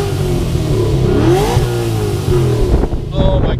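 A car engine fitted with a ProCharger P-1SC-1 supercharger revs hard with its rev limiter removed, pitch climbing and falling in loud, close sweeps under excited voices, ending in a few sharp clattery bursts.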